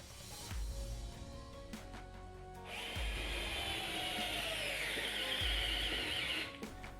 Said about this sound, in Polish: Wiercenie 25 mm wiertłem opadkowym było troszkę większym wyzwaniem.